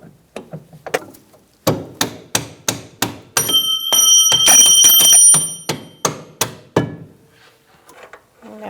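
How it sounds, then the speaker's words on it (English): A hammer drives a steel punch to line up a rear upper control arm on a 2002-2006 Honda CR-V. Sharp metallic blows land close and loud in a steady rhythm, with a brief stretch of ringing, rattling metal in the middle. "So I'm using a punch to line up my control arm on one end"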